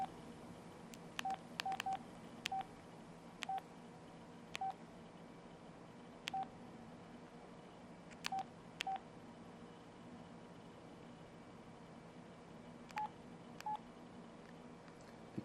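Pantech C740 Matrix phone keypad giving short, sharp key tones, about a dozen single beeps spaced irregularly over a faint steady background hum, with no talking.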